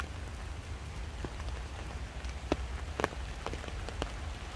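Rain falling in a forest during blackberry picking, a soft steady patter on leaves with a few louder drops striking nearby.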